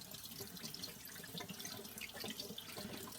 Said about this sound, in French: On va essayer de rincer quand même pour enlever le maximum de crème.